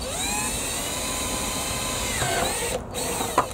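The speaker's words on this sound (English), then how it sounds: "what I've got to do is drill some holes in the in the bottom" A power drill whines steadily at close range, drilling holes in the bottom of a plastic bucket, its pitch dipping and rising as it bites, then stopping briefly near the end.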